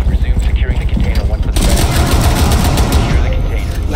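Rapid gunfire bursts loudly up close in Rainbow Six Siege, a dense clatter of repeated shots that continues after a sharp onset, with players talking over the action.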